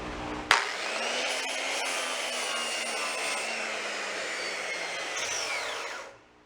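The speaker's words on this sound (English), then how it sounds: "what I do have is a grinder with one of those flapper discs for metal. Let's see how that works on wood" An angle grinder fitted with a metal flap disc spins up sharply and sands a wooden pallet, a loud, steady, close whine and rasp that holds for several seconds before winding down.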